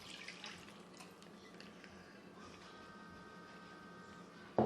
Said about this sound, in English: My water is lukewarm. I'm just gonna add my water.